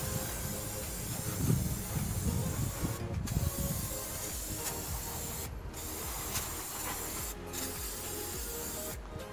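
Würth engine cleaner hisses in steady spray bursts onto heavily soiled areas of a dirty engine left unwashed for 25 years, with short pauses between presses of the nozzle.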